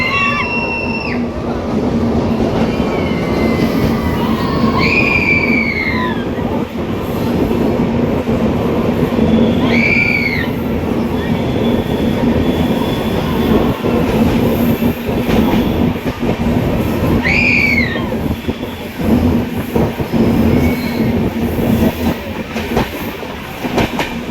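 A train rumbles steadily along the tracks on the Vizag–Araku route, with a constant rolling roar and occasional high squeals and whistles, close and loud.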